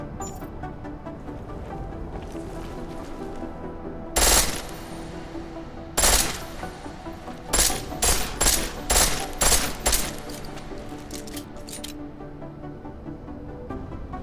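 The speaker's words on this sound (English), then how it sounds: "The pistol in full auto will take down targets fast" Pistol fired on full auto in a video game played on a Steam Deck, with several sharp bursts of rapid shots standing out over a continuous background bed, and no talking.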